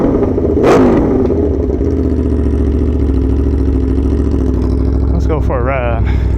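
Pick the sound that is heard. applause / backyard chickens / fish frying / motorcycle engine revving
motorcycle engine revving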